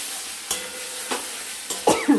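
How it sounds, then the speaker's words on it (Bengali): Potatoes being stir-fried in a pan for a fish curry, with a few sharp scraping stirs spaced about half a second apart over a faint steady sizzle, close by and fairly loud. "আলুটা আগে দিব, আলুটা দিয়ে একটু কষবো, 2-3 মিনিট কষবো।"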